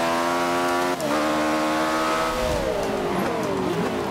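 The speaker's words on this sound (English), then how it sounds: "The engine on this thing is just pure symphony to my ears right now" An Ariel Atom revs hard in Forza 5, its loud engine note climbing and dropping through gear changes as the pitch sweeps steadily, heard close and alone.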